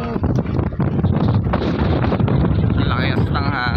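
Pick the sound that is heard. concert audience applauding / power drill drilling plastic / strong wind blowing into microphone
strong wind blowing into microphone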